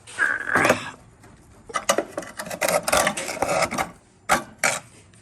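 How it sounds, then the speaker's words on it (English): A screwdriver pries an old leaf spring bushing out of a 1969 Camaro's rear leaf mount, giving a squeaky scrape at first and then bursts of rasping, rubbing and scraping separated by brief pauses. "got my trusty screwdriver. So I'm just gonna peel this out"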